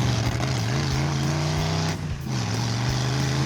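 A Duster-powered kart engine burbles loudly and steadily on a desert track. The low, rough tone wavers as the kart slides off line, dips briefly mid-clip, then returns to a constant close-up drone.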